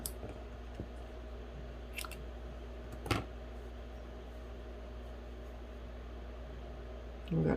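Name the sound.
scissors cutting a ribbon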